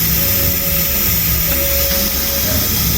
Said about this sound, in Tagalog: So narinig nyo, may sumisingaw. Meron kasi yung hangin.